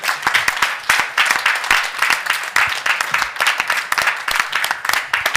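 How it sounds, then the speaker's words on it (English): An audience at a marketing mastermind event in Miami applauds with steady, dense clapping from many hands that holds at a loud level for the whole stretch. "Give a round of applause,"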